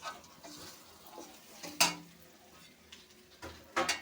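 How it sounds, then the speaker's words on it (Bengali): Ground chili, cumin and coriander spices roasting in a pan for hilsa fish curry with taro and potato, a quiet sizzle broken by a few sharp spatula scrapes and clinks against the pan. "মশলাটা কষিয়ে নেব। দেখো কষানো হয়ে গেছে"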